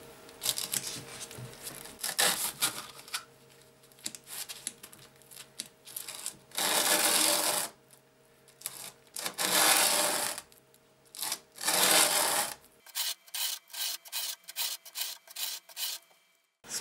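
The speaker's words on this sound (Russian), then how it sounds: "Теперь совершаю поступательные движения, приложив одну из частей ножниц к наждачной бумаге." Scissor blade rubbed back and forth on 120-grit sandpaper, giving repeated loud rasping strokes of varying length, then a quicker series of short scrapes near the end.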